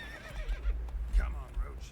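Roach the horse neighing in The Witcher 3, a clear whinny at close range with clip-clop hooves thudding underneath, alongside talk.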